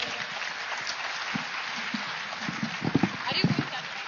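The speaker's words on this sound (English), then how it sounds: "can you all clap really loud for how much you've loved it?" An audience at a live wisdom session claps, a broad wash of applause that swells louder toward the end with sharper individual claps standing out near the front.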